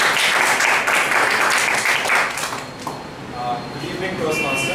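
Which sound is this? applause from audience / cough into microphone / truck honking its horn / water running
applause from audience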